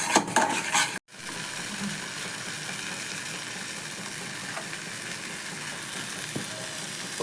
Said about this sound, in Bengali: মশলাটাকে খুব ভালো করে কষিয়ে নিতে হবে।